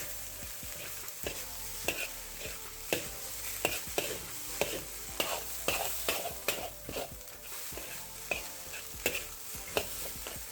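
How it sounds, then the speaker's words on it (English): Halibut fish fried rice sizzles in a hot pan while a spatula clacks and scrapes in quick, repeated stirring strokes, close and fairly loud over the steady frying hiss. "Give that a good stir. Make sure everything is done quickly so it doesn't soak into one piece of rice."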